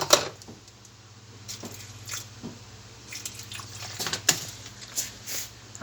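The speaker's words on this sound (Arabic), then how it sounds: "هنضيف برضو شويه ميه كمان اهو." Small splashes and drips as water is added into the salt compartment of a Zanussi 13-place dishwasher, soft wet squishing sounds coming in a few quiet bursts, close and without speech.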